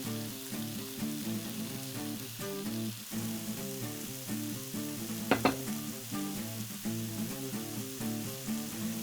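Meat and vegetables sizzle steadily on a Magic Grill plate for Korean-style grilled pork, a continuous close frying hiss with soft clinks and stirring, one sharper crackle burst midway; no talk.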